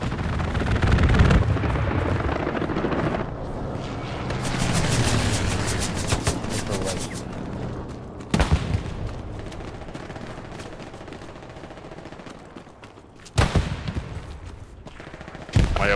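Machine gun fire from a called-in strafe in a video game battle on Omaha Beach, loud rapid rattling bursts with heavy booms and rumbling blasts scattered through a dense, chaotic battlefield mix.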